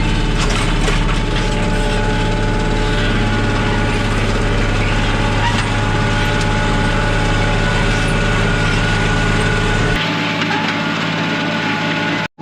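A Kioti NS6010 tractor works a steep hillside food plot in Southern Illinois, its engine droning loudly and continuously with rattling mechanical clatter, then the low rumble abruptly drops near the end.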